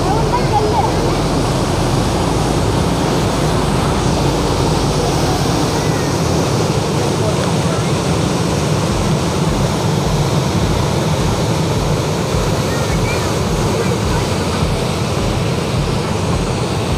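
Hogenakkal waterfall on the Kaveri river roars as a steady, loud, broadband rush of falling water that holds unchanged throughout, with no voices heard.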